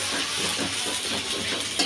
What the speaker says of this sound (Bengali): এখন চিংড়িটাও দিয়ে দেব রসুন আর পেঁয়াজের মধ্যে, চিংড়িটাও ভেজে নেব।